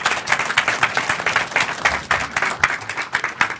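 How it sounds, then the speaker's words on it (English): An audience applauds a speaker at a philanthropy and global poverty panel event, a steady wash of many hands clapping at moderate distance, dense and continuous without talk. "Let's give our speaker a round of applause"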